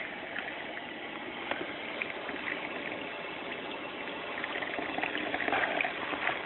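Water sloshes and trickles steadily during a baby boy's first bath, a soft continuous splashing and dribbling throughout, fairly quiet and close, with no talking.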